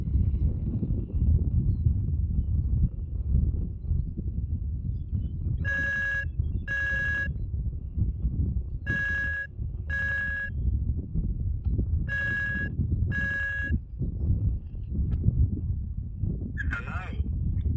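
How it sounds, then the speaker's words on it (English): A phone rings on an Iridium GO Exec satellite call: three evenly spaced double rings, bright and electronic, cut through a steady background rumble. "so let's phone Keith"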